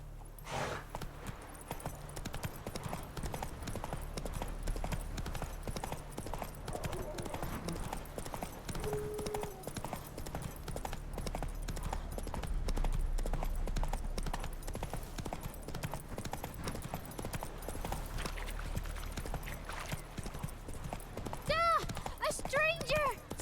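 Horse hooves clip-clopping steadily in The Witcher 3 as the rider urges the mount on, a continuous rhythmic beat under game music and occasional voices of characters speaking.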